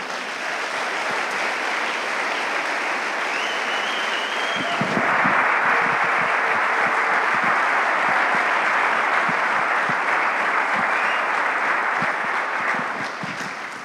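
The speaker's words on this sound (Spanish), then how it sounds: "Otro aplauso al pastor Richie Rey." A church conference audience in Argentina applauds pastor Richie Rey, a dense, steady wash of clapping that runs the whole stretch and swells slightly about midway.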